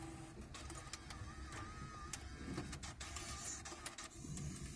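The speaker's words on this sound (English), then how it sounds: "So, pull my cassette out." Faint motorized whirring and clicking as a cassette ejects from the factory stereo of a 1998-2002 Honda Accord, quiet and steady with no voices.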